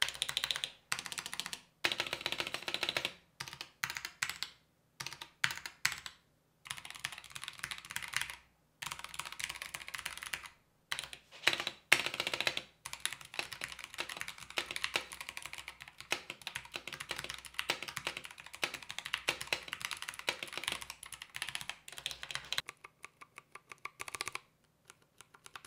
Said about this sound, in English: So let's go on and do a sound test of the CK720.